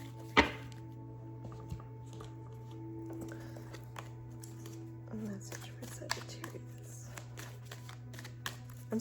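Cards riffle and slap softly in short bursts close by, over a steady low electrical hum.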